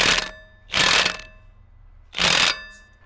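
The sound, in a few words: wrench ratcheting and slipping during Ferris wheel repair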